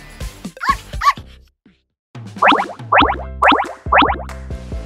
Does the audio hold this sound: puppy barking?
yes